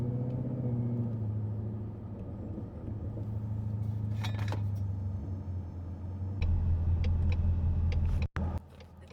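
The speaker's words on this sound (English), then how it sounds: "this one being a really handsome one with a loud exhaust" Supercharged 2020 Ford Mustang GT with a 5.0 V8 and loud exhaust, idling with a steady deep rumble that swells into a louder, heavier drone near the end, with a brief drop and a few light clicks.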